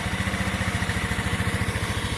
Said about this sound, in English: It's a beautiful running bike, fuel injected.